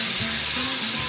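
Loud, steady sizzling of meat frying in a hot pan with olive oil, a continuous crackling hiss with no voices.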